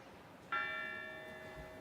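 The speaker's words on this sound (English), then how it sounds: "we're going to be ringing the bell 4 times" A single bright bell strike at a fire station dedication ceremony, ringing out once with a clear metallic tone and a long sustained decay that fades gradually, heard alone over quiet outdoor background.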